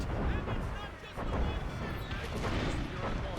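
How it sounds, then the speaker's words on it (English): A ship-mounted mortar in Assassin's Creed Rogue booms in heavy, rumbling blasts amid naval combat noise, loud and close, with someone talking over part of it. "That mortar is a fucking beast"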